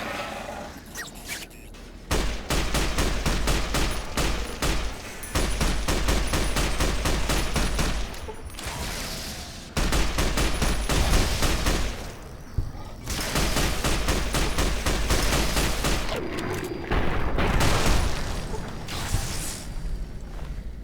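Gunfire in Fallout New Vegas, a single-shot weapon fired over and over in dense, loud bursts, several stretches of rapid shots broken by short pauses, with mechanical clicks between them.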